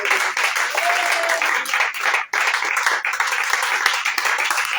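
A church congregation at a prayer gathering bursts into sustained, dense applause, loud and close, with one brief dip partway through before the clapping resumes.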